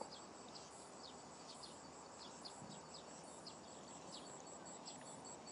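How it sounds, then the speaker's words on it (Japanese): Steady high drone of insects and cicadas outdoors, with short bird chirps repeating every second or so over a soft, even background. "虫の鳴き声とか、 鳥の音とか、セミの音とか"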